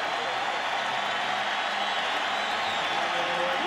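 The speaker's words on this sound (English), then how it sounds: "you hear the roar from the crowd" A video game stadium crowd roars steadily during an NCAA 2011 college football broadcast of Utah State at BYU after a quarterback run, a broad continuous wash of cheering with no commentary over it.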